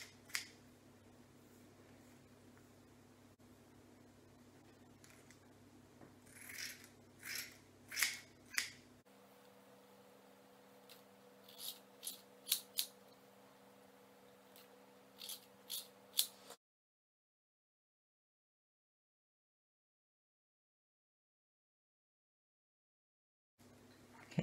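Sharp, crisp kitchen-scissor snips cutting short hair in small clusters over a quiet background hum, followed by a long stretch of silence.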